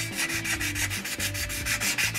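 A sanding stick rubbed back and forth over craft foam while shaping it, a close, loud, rhythmic scratchy rasp of quick even strokes, heard alone over faint background music.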